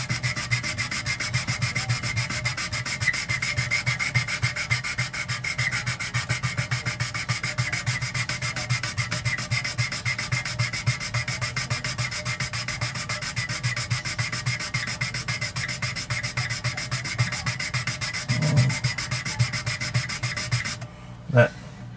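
Acrylic is sanded along a crack with steady, rapid back-and-forth rubbing strokes that hold an even, loud scratchy rhythm for about twenty seconds before stopping abruptly with a brief clunk.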